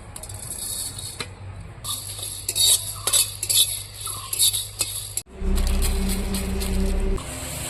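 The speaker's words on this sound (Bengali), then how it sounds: "এটা আমি খোলা কড়াইতে ভেজে নেব" Two dried red chillies, whole coriander and cumin are dry-roasted in an open wok. A metal spoon scrapes and clinks in uneven bursts close up, then a loud steady roar like a burner takes over near the end.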